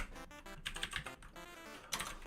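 Rapid keystrokes on a computer keyboard while someone writes JavaScript and Python code, a steady irregular clatter of close, fairly loud clicks with brief pauses.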